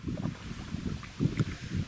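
Strengthening gusty wind buffets the microphone in low, uneven rumbling bursts while fishing, with faint water sounds beneath.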